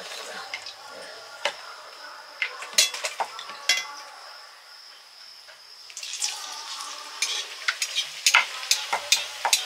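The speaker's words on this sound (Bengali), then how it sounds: "তরকারি হয়ে গেছে, এবার লুচি ভাজা চলছে।" Luchi fry in hot oil, a steady bubbling sizzle broken by sharp clinks and scraping of a utensil in the pan, with people talking nearby.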